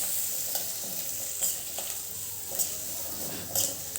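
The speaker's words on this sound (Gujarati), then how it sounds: "અને પછી ગાજર, આને થોડું આપણે શેકી લઈશું" Carrots being stir-fried in a pan for veg chili on a low gas flame, a steady bright sizzle with a spatula scraping and stirring at a few irregular moments, close and loud with no talking.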